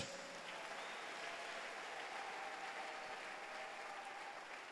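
A church congregation applauding the Lord, sustained dense clapping from many hands in a reverberant hall, steady and fairly soft throughout.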